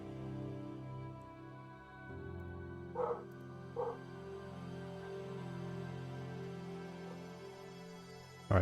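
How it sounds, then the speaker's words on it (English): A dog barks twice in short, separated bursts at a moderate distance over a steady background hum, with a louder sound cutting in at the end. "Dog is barking."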